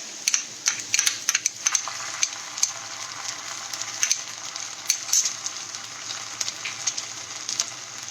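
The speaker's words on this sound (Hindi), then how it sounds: "और इसे भी अच्छे से थोड़ा सा सौटे कर लेंगे।" Ginger garlic paste and onions sautéing in a pan, a close, busy crackling sizzle with quick sputtering pops throughout, and no talk over it.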